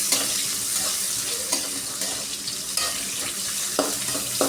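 Onions frying in oil with mustard, cumin, fenugreek and fennel seeds for an Odisha-style brinjal curry, a steady close sizzle with intermittent scrapes of stirring throughout.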